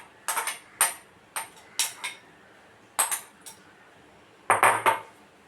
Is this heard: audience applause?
no